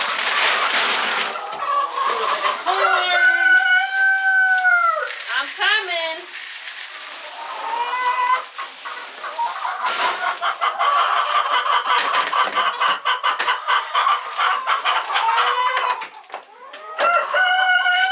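Chickens inside a chicken house, with a rooster crowing loudly several times in long drawn-out calls among dense, continuous clucking and squawking from the flock, close and busy throughout.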